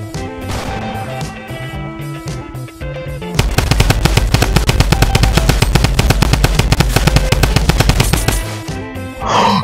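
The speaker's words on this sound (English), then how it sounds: "I hit both of them with a sniper!" Rapid automatic gunfire in the video game Fortnite, a dense loud burst of shots firing in fast succession for several seconds after a quieter stretch of game sounds.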